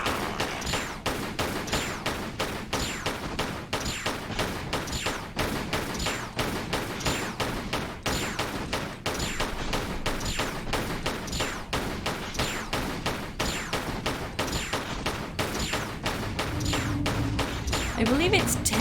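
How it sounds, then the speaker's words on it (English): Revolver gunshots fired at a demigod in a Tomb Raider level editor game, a long steady series of sharp, evenly spaced shots repeating throughout, with talk occasionally over them. "I believe it's 10 shots from the revolver for the demigod."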